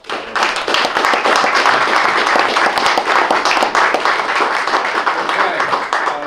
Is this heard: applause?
yes